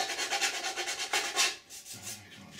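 Hand file rasping along the side of a 3D printed ABS part, a steady run of quick back-and-forth strokes at close range, then a softer scrape at the end.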